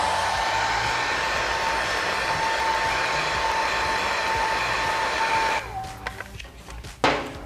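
A heat tool warming a TechSpec tank grip pad for a 2015+ Yamaha YZF R1, a steady loud blowing whine that cuts off near the end, followed by a few handling clicks and rustles.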